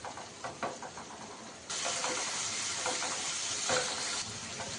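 Tomato and green chili masala sizzles in a hot pan while being stirred, a steady close frying hiss that swells louder partway through, with soft scraping strokes of the spoon.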